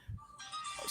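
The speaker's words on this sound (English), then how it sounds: "That's my phone." A mobile phone ringtone chimes briefly, close and fairly quiet, rising in a bright melodic tone over faint background noise.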